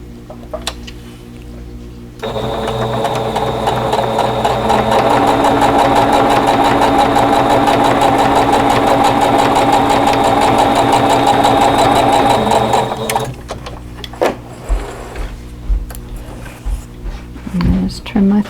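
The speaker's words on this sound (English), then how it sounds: "so that I can keep that miter as I am sewing these together" Close, loud sewing machine running continuously for about ten seconds while stitching mitered table runner pieces together, with quieter handling noises before and after.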